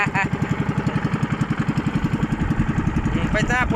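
A small boat's engine runs steadily nearby with a fast, even chugging pulse, loud and continuous, with a voice faintly over it.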